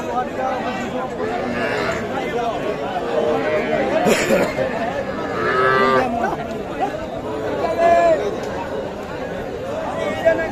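Young heifer calves and other cattle at a busy village livestock market, with a few low moos rising over constant crowd chatter and nearby voices of people talking.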